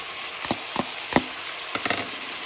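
Onion and carrot sautéing in a pan, a soft continuous sizzle broken by a handful of sharp scraping stirs and clicks of a utensil against the pan, close up.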